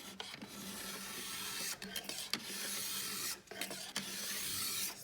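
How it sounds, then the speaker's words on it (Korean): A stone files along the base edge of a ski, giving steady close rasping strokes with short breaks between passes. "스톤질을 먼저 했더니 좀 더 부드럽게 먼저 잘 깎이네"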